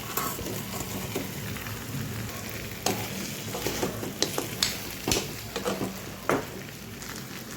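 Pieces of fried bhetki fish go into a pan of cooked-down masala and sizzle steadily, with sharp clinks and scrapes of stirring cutting through now and then.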